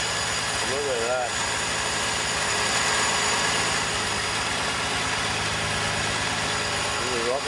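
Turbocharged V6 in a VN Commodore idling just after its first start, a steady, close, smooth rumble with even pulsing throughout, while voices speak over it.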